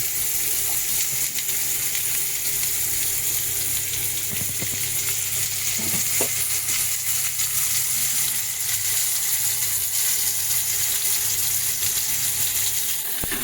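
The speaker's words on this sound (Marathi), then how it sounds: "परतून घेऊया ना आता" Prawns sautéing in oil in a pan for a Sunday prawn biryani and tawa fry, giving a steady, fairly loud sizzle. Occasional faint scrapes sound over the sizzle throughout, with no talking.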